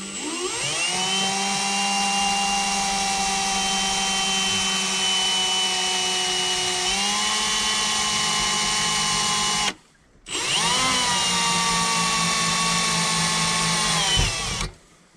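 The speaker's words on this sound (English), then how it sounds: "and so now I'm going to drill that." A power drill whines steadily at high speed drilling a hole for a hot tub subpanel, its pitch dropping slightly midway, then stops briefly before a second long burst that cuts off.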